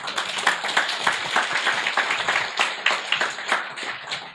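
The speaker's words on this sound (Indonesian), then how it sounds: "Aplaus untuk Anda semua." Audience applause at a motivational positive-affirmation seminar, a steady wash of many hands clapping at close range, sustained and fairly even for several seconds with no talking over it.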